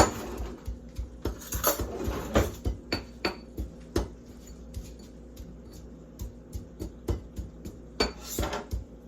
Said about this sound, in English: I'm gonna get a spoon and I'm going to stir that in.